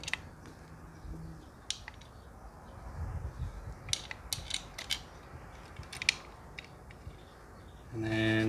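Screws are tightened on a Honda CR-V engine near the coil pack, making a series of close, sharp ratcheting clicks and metallic ticks in short irregular bursts, then a louder mechanical whir at the end.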